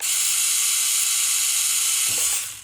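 A small motor in an RC Mater toy car whines loudly with a high buzzing grind while turning, steady and close, then cuts off abruptly near the end.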